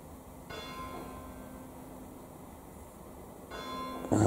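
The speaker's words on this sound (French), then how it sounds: "Ah oui, c'est la première fois que j'entends une cloche ici." A bell rings at night in a manor, two clear tolls with a sustained ringing tone between them, heard moderately far off over a quiet background hiss.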